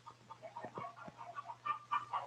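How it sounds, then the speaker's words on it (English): A flock of hens clucks in a large farm chicken yard, a quick run of short uneven clucks close by at moderate volume, with a steady low hum underneath. "Grandfather keeps a large flock of chickens."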